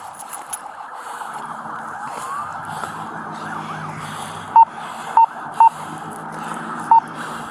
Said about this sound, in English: They hear the lights, they hear the sirens.